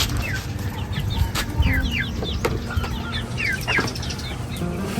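Chickens cluck and chatter close by in a busy farmyard, with a rooster-like call and scattered bird calls over steady low background noise.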